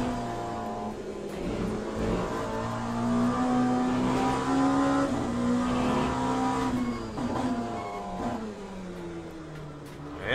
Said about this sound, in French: Incroyable cette LMP2.